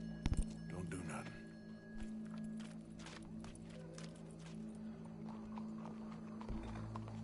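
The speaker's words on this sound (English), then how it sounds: "Go brush that horse, officer." Horse hooves in Red Dead Redemption 2 clip-clop at a steady walking pace under a constant game-style background hum, with a few brief sharp knocks near the start.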